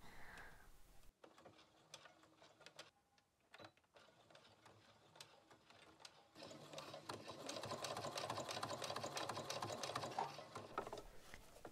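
A sewing machine stitches a nylon strap for a homemade dog collar, running in steady bursts with a short pause and back-and-forth lockstitch, then a longer, louder continuous run near the end, close and without talk.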